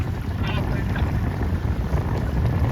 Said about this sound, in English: trying to drive the coach boat at the same time.